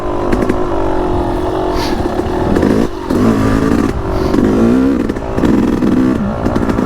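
A Yamaha YZ250X two-stroke dirt bike engine revs and rises, loud and close, its crackling pitch climbing and dropping through short throttle bursts with brief pauses and some clatter, no speech.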